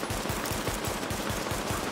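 Rapid automatic gunfire in The Division's weapon test, shooting at targets on a range: a dense, steady burst of evenly spaced shots, loud and close, with no voices.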